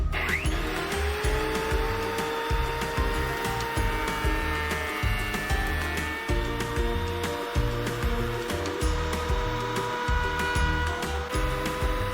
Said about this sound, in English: I'm gonna try to send it through the planer using the AC240, and then we'll see if we can cut it in half.